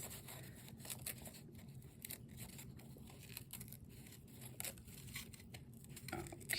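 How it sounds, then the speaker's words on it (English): Scissors snip paper strips for Christmas rosettes, giving quiet, repeated crisp cuts and rustles close by at low level. "use your scissors and just snip them all to about the same width"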